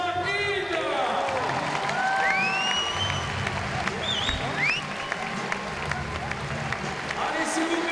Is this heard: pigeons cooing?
no